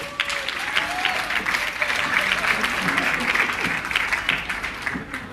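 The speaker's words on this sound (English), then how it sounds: "Clap them now, please." A crowd at a music awards ceremony applauds the honorees with a loud, sustained round of clapping that fills the hall while a voice speaks over it.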